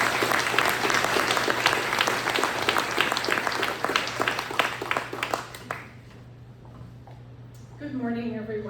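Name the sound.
audience applause welcoming Lori Triquetti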